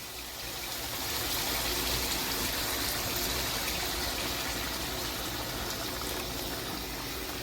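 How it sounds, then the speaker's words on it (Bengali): About two cups of hot water poured into chicken that has been browning in oil. A steady, continuous gushing pour sounds close and fairly loud for several seconds, with no talk. "মোটামুটি আমি 2 কাপ মতন গরম জল অ্যাড করলাম।"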